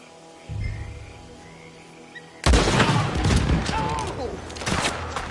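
A loud burst of gunfire erupts in Red Dead Redemption 2 after a quiet stretch, dense overlapping shots and booms filling the second half, with voices mixed in.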